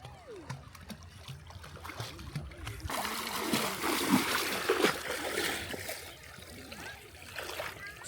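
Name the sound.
people bathing and splashing in Thamirabarani river water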